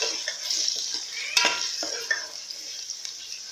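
Chicken pieces fry in hot oil in a pan for a quick chicken karahi, crackling steadily while a spoon stirs and scrapes, with a few sharper metal knocks against the pan.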